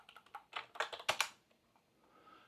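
A quick, quiet run of about a dozen computer keyboard key presses, closely spaced and crisp, ending with a firmer keystroke, then near silence.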